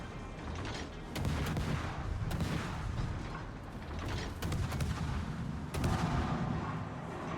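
Canadian warship main guns fire in the naval battle game World of Warships, repeated heavy booming salvos with rumbling echoes, several spaced blasts over a continuous low battle din.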